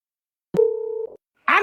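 A house landline telephone emits a brief steady dial tone lasting about half a second, clean and close, followed by a short click and then a burst of other noise after a silent gap.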